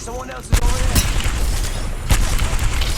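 Gunfire in a video game shot during a test of a Signo WG-900 Vortex wireless gaming mouse, with two or three loud booming shots over steady game background noise.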